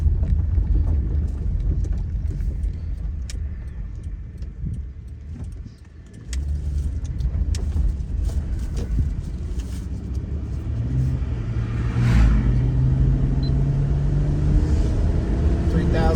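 A 2009 Honda Odyssey minivan, just after a transmission fluid change, drives and shifts up through the gears toward 4,000 RPM: a loud, steady engine and road rumble inside the cabin, with a brief dip around a shift and a rising tone later.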